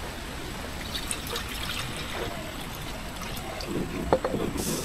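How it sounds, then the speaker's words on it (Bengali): Water trickles and pours into a pot of just-fried food to soak it, a soft, steady liquid stream, close but fairly quiet, with a slightly louder splash near the end. "পানি দিয়ে দিই।"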